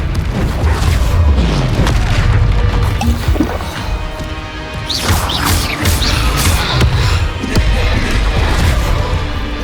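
Spell blasts and explosions crash through a Hogwarts Legacy battle against goblins near villages, with repeated loud booms and crackling impacts layered densely throughout and no pauses.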